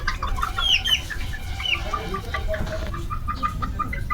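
A native farm chicken clucks in short, close, irregular bursts while being weighed, with light handling noise underneath.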